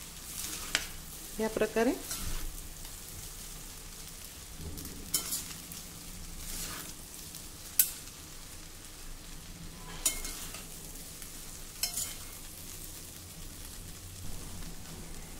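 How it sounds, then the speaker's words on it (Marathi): Cooked rice being gently mixed with two spoons in a pot, giving soft scraping and scattered clinks of spoon against metal over a faint steady background, with a few brief spoken words. "असा 2 चमच्याच्या साहाय्याने आपल्याला हे व्यवस्थित मिक्स करायचं आहे। अगदी हळूवार अलगदपणे हे मिक्स करा"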